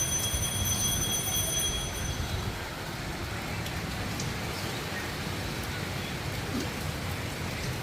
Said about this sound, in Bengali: দেখুন বন্ধুরা বৃষ্টি শুরু হয়েছে আবার